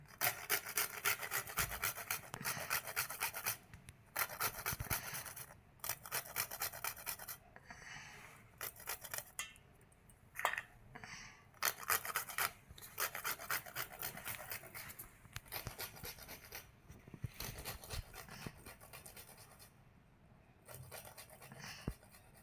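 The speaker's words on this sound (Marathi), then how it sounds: "त्याच्यात सात आठ बदाम किसून टाकते आता" Seven or eight almonds rasped on a kitchen grater while making nankhatai biscuits: steady close scratchy strokes in quick repeated bursts with short pauses, no talking.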